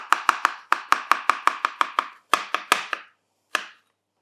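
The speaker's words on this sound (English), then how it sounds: "half a courgette at the moment. Cut it into half moons" A knife cuts half a courgette into half moons on a board. Rapid, evenly spaced crisp chops come in close succession, then pause, followed by a few more and a final single cut, with no voices.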